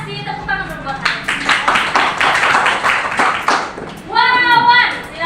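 A short burst of classroom clapping at a primary school in Sintang, given for a student, with children's voices and an adult speaking before and after.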